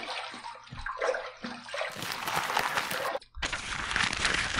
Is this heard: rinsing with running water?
yes